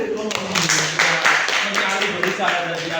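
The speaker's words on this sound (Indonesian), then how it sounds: "Tepuk tangan." An audience claps in a classroom during an Indonesian Islamic religious education teacher training session. The clapping is steady and fairly close, with talk over it.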